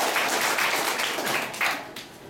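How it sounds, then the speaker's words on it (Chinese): An audience at the opening ceremony of the Solomon Islands honorary consulate claps together in a brief burst of dense applause that fades slightly toward the end. "同意的话请给一点掌声"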